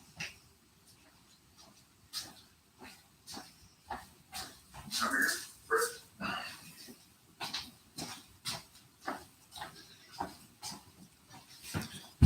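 A dog whimpers and gives short barks in a series of faint, close yelps and whines, spaced irregularly over several seconds with a brief louder burst midway.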